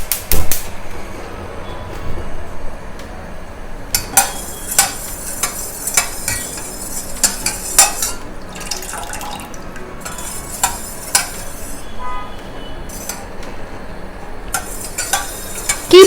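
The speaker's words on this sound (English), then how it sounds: "keep on stirring till the agar-agar jelly dissolves well" Agar-agar jelly in a pot on a gas stove is stirred with a utensil, giving repeated sharp scrapes and clinks against the metal over a low steady background hiss.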